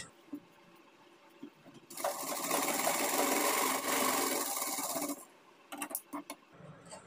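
Sewing machine stitching a blouse runs in one steady, fairly loud burst of a few seconds, with quieter fabric handling and light clicks before and after.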